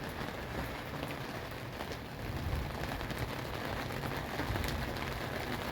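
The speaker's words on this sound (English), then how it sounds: "we're getting a little bit of rain right now" Light rain falls steadily, a soft continuous patter spread evenly across the whole stretch, with no voices.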